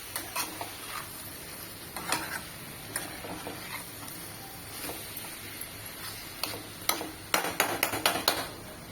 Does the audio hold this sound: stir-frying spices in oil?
yes